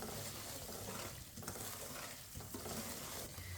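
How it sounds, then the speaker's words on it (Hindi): Semolina roasting in oil for halwa sizzles steadily while a spoon scrapes and stirs the pan in irregular strokes, close and fairly quiet. "ये देखिए सूजी हमारी अच्छी तरह भुन चुकी है।"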